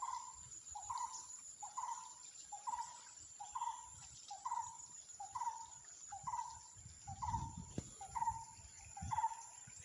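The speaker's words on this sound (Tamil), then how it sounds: "ஏதோ ஒரு குருவி கத்துது" A bird calls repeatedly at a steady rhythm, a short note about once a second, over a constant insect drone and faint rustling, in a mango grove near Pachanthiram, Kalakkad, Tirunelveli district.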